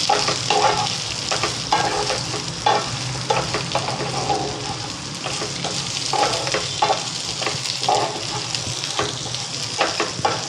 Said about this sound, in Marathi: एकसारखं हलवत राहायचं, म्हणजे आवळे पण आपले सर्व बाजूने भाजून निघतात पहा.